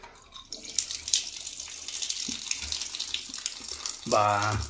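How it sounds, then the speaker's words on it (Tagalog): Water drips and trickles from the leaking faucet feeding a washing machine in a farmhouse bathroom, close and continuous, ending in a louder gush of running water. "Tumutulo."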